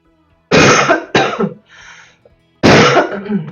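Three harsh, loud coughs close up: two in quick succession, a pause, then a third, with a faint throat sound between them.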